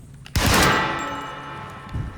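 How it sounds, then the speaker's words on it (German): A bell rung in the video game Alone in the Dark, one loud metallic clang that rings out in a long, slowly fading tone. "Ob wir mal die Glocke läuten."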